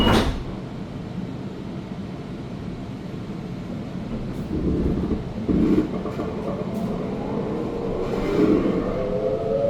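A modern Sydney train pulls away from Beecroft station, heard from on board as a rising low rumble with clunks and a sliding door thud, the motor whine building toward the end.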